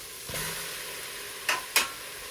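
Cilantro and fresh tomatoes get stirred into a pot of sprouted-bean chili, giving a soft steady cooking hiss with a couple of sharp spoon scrapes and clacks near the end.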